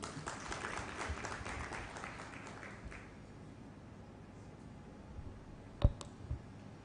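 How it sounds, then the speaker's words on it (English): An audience at a national competitiveness forum gives a round of applause for a session chair, the clapping fading out over a few seconds before scattered clicks and near silence. "round of applause."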